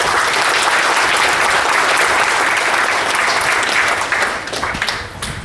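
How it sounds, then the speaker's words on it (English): Sustained audience applause for company employees at an electric cooperative's 86th annual meeting, a steady dense wash of clapping that holds loud throughout and thins slightly near the end. "please join me in a round of applause for all the employees and the safety."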